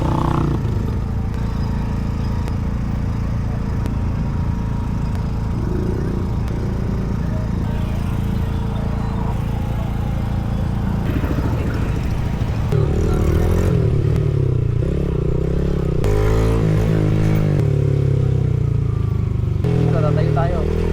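Loaded motorcycle engine running steadily throughout a river crossing in Tinucan, Tanay, with a continuous low drone that grows rougher and louder in the second half, while people talk over it.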